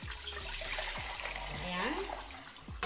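Two liters of water pour into a cooking pot on a stove for cooking cassava flour, a continuous splashing trickle with a few sharper gurgles throughout.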